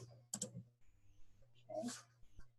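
Typing on a computer keyboard, heard as a few short bursts of key clicks separated by quiet gaps, with a low steady hum underneath.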